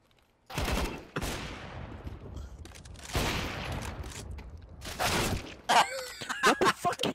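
Gunfire in the video game Rust: loud, close bursts of rapid shots with brief pauses between volleys, ending in a scatter of quicker, sharper cracks.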